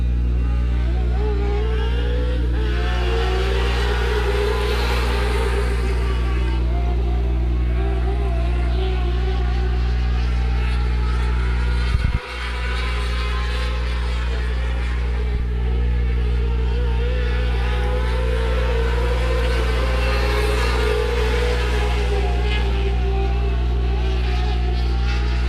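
Micro sprint race cars racing at Rock County Speedway, engines droning loudly and steadily as the pack runs through the turns, with rising and falling revs and a commentator talking over the track noise.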